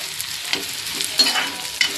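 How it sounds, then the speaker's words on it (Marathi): Chopped onion sautéing in hot oil in a pan for an Indian home-cooked dish, a steady close sizzle and hiss with a few brief stirring scrapes and spatters, no voices. "कांदा टाकते मी. चांगलं परतून घेऊयात."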